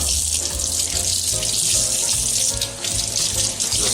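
Salted eggs are rinsed under a running kitchen tap, a steady close hiss of flowing water splashing into a sink, continuous for the whole span, with no talk.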